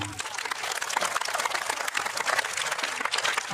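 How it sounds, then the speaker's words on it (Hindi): An audience at a school annual function claps for a child, a dense, even patter of many hands that goes on steadily throughout, moderately loud and slightly distant. "तालियां बजाएं भी इसके लिए।"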